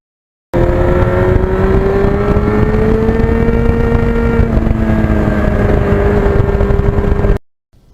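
A 1991 Yamaha FZR 1000cc motorcycle with a loud, close engine drone that holds a steady droning pitch for about seven seconds, starting suddenly and cutting off abruptly.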